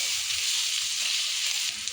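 Onions sizzling in hot oil in a pan with curry leaves and turmeric for a masala chicken fry, a steady close bright frying hiss with no pauses.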